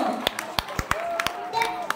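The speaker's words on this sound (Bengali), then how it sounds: "আরো জোরে হাততালি।" Audience clapping at an evening stage event, a sparse, uneven run of sharp individual claps rather than full applause, heard close with a faint hum of voices underneath.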